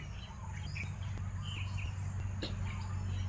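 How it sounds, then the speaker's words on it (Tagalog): Various birds in a forest of large trees, scattered faint chirps and calls over a steady low hum of background noise. "Iba-ibang klaseng mga ibon na"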